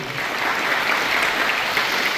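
Everyone in a school gathering claps together, a steady dense wash of applause held at a constant level for the whole stretch, with no voices rising above it.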